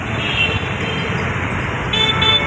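Dense road traffic at the Phoolbagh crossroads, with a constant wash of engine and tyre noise and car horns tooting in short bursts over it, louder toward the end.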